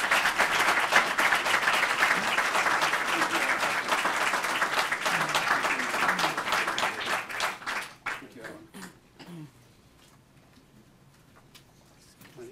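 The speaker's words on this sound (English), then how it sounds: "So can you give them a round of applause?" Audience applause at a school board meeting, a long round of clapping that stays full for about eight seconds, then fades into scattered claps with faint voices murmuring underneath.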